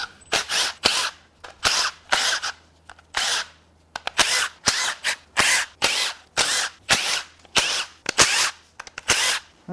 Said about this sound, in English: Get the pan unbolted.